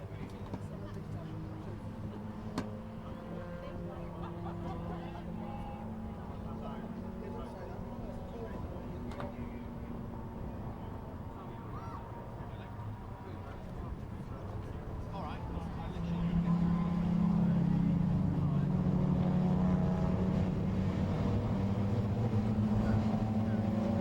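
Kumho BMW Championship saloon cars racing at Donington Park in 2021 produce a continuous engine drone under steady trackside commentary, with the engine note swelling louder and rougher about two-thirds of the way through.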